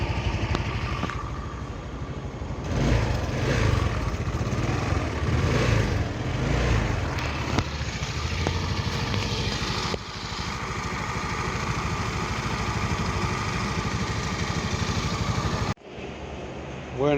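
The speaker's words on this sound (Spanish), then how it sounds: "debe quedar el sonido del tubo y del silenciador de escape, lo más uniforme posible." An AXXO Viper 180cc scooter engine runs steadily with its exhaust pipe and muffler droning evenly, a continuous near mechanical hum that holds for most of the stretch before cutting off abruptly near the end.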